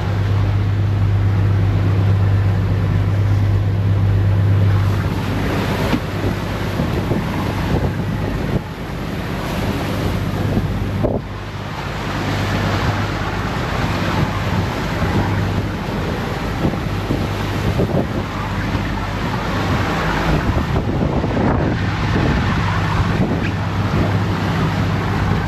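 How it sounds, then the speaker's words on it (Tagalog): Sea water surges and splashes hard against a fishing boat in a steady, loud wash of surf, buffeted by heavy wind noise on the microphone throughout. "ang lakas ng saboy oh"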